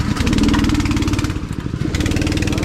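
Go-kart engines drone loud and steady as a race gets underway, a buzzing rasp with a brief dip in the middle before the pitch returns to full throttle.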